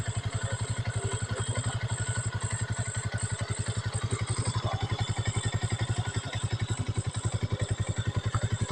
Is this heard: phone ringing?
no